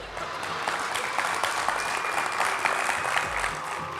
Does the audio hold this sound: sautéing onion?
no